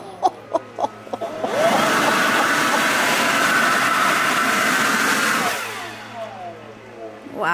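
Blower placed inside a central vacuum unit roars to life after a few knocks, a loud steady whooshing rush for several seconds before winding down, with brief voices near the end.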